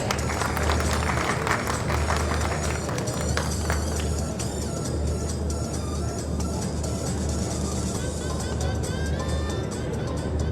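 An audience in a seminar hall applauds a shield presentation with loud, sustained crowd clapping and a constant low hum underneath, over a steady noisy background.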